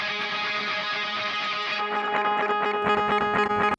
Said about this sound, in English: You can hear a little wall of fuzz